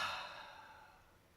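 A single deep breath is let out as a slow, soft exhale during meditation. It fades gradually and stands alone, with no talking over it.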